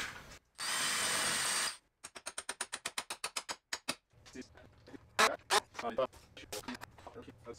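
A power drill overboring a hole in wood for a DIY compost tumbler: a steady motor whine, a rapid burst of pulsing trigger bursts, then rougher grinding bites into the wood, close and loud.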